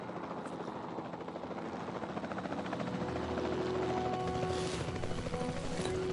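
A helicopter in the Jurassic World Evolution 2 video game, a steady rotor drone and chop that grows slightly louder over several seconds, heard alone without speech.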